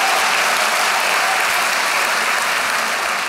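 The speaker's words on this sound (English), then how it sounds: "let's have a round of applause for the people in this room who have done that" An audience in a conference hall at a summit breaks into sustained applause, a dense, even roar of clapping that holds at full strength from start to finish with no talking over it.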